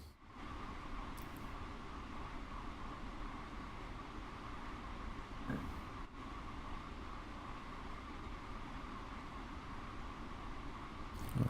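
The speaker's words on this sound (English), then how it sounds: "A freight train." A freight train in Train Sim World on the London Paddington to Reading line rumbles past as a steady, continuous low roar that stays even and fairly loud, with a brief swell near the middle.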